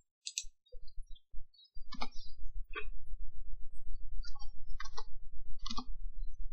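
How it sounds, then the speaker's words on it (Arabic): A computer mouse clicks in quick pairs, several times, while someone works in a spreadsheet, over a steady low electrical hum. "هعمل عليها دبل كليك"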